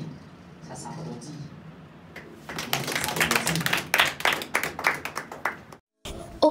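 After a short stretch of speech, a crowd at a Burkinabé gathering breaks into clapping: brisk, fairly close hand claps that build and then stop abruptly.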